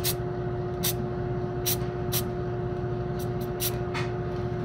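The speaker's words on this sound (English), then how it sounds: "give it just a little spray there" Several short hissing aerosol spray bursts onto a jig mold, irregularly spaced, over a steady background hum and rumble.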